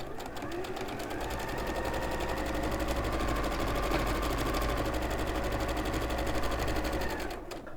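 A sewing machine stitches quilt patchwork in a fast, even rattle of needle strokes, running close and steady for several seconds before it stops.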